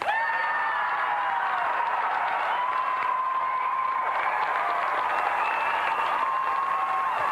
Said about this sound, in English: Let's have another round of applause for tonight's semi-finalists, Paul Lakin and Duncan MacDonald.